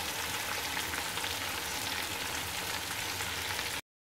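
Chicken fries in a pan of hot oil with a loud, dense, continuous sizzle that cuts off abruptly near the end.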